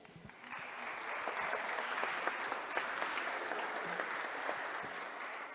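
Sustained audience applause at an electoral tribunal jurisprudence event, a steady wash of many hands clapping that fills the room at moderate loudness for several seconds without talk.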